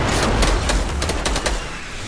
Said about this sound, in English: There's somebody shooting.